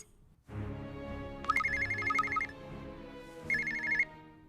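Phone ringtone in a cartoon home-alone story as a kid calls the police about a thief: two short bursts of bright trilling ring over a steady musical background, fairly quiet.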